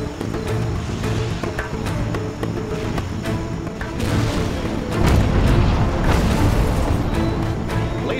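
Cannon fire and explosions from the Command & Conquer Chaos Mod battle, a dense, continuous barrage of booms and crashes over layered game music, growing heavier and louder in the second half.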